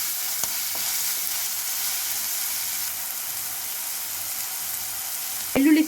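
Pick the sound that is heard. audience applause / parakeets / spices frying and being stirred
spices frying and being stirred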